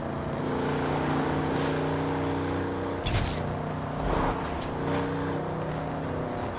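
Standard engine of a Chevrolet Impala in Forza Horizon 4, a steady droning hum with a brief louder rev burst midway, heard alone.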